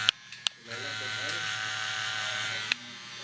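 Steady buzzing hum of a new gold cordless hair clipper switched on after a couple of clicks, running close and even for a few seconds before cutting off with another click.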